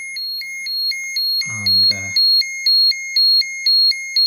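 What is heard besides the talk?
digital Geiger counter radiation alarm going off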